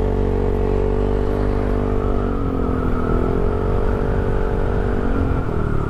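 Honda Click scooter with an aftermarket exhaust fitted with a resonator and silencer, idling and revving in a steady, muffled drone with slowly shifting pitch, close and continuous, no talk.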